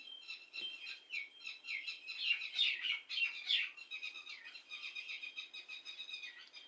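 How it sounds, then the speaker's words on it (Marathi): A red-wattled lapwing gives shrill, piercing calls in quick bursts, rising to a loud flurry midway, with no one talking. "साळुंकी नाही हो टिटवी टिटवी टिटवी ऐकलेली का तुम्ही"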